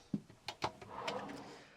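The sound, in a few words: big drawer under motorhome oven being opened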